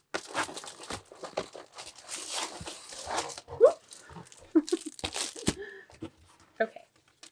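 Packing paper crinkling as it is pulled from the top of a box, soft rustling and crackling bursts close by, intermittent and fairly quiet, with occasional faint sounds of handling.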